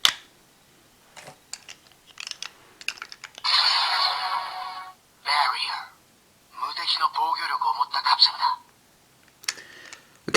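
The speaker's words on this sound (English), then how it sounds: "we'll test the sounds these Capsem make in the ZEZTZ phone, starting with the Barrier Capsem." A Kamen Rider ZEZTZ phone toy with a Barrier Capsem inserted gives off clicks, then bursts of electronic hissing and rushing effect sounds in several loud segments separated by short pauses.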